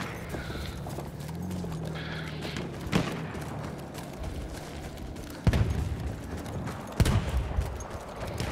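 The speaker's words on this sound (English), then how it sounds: "this medic rode up like a hero on a horse" Horse hooves clip-clopping in the Battlefield 1 video game as a medic rides up on a horse, steady hoofbeats under a busy wartime battle din, with a few sharp gunshot-like cracks cutting through.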